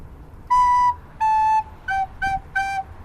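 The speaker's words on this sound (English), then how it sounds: "I'm going to play some just little song patterns on the recorder" Recorder playing a short melodic pattern of five clear, sustained notes, two longer tones followed by three quicker ones, close and solo.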